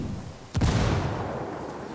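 A single frag grenade blast in the shooter game Ghost Recon, one sharp loud boom followed by a rumbling decay that fades over about a second, with no voices.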